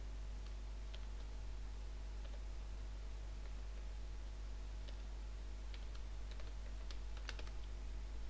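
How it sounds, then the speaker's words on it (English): A password typed on a computer keyboard, a quiet run of irregular key clicks over a steady low hum, with a few sharper taps near the end and no talking. "let's just do that and type password"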